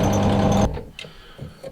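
A power drill bores slowly into a motorcycle mirror, giving a loud, close motor whine for well under a second before cutting off, followed by a few faint handling clicks.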